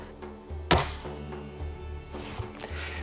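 A Chinese air rifle's spring is cocked with a single sharp mechanical snap, close up, followed by quiet handling noises and a low hum.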